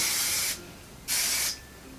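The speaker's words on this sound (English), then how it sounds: "So then I take this and I just spray it over everything" Two short, loud hissing bursts from an aerosol can of dry oil spray over curly hair, each about half a second long, separated by a brief pause.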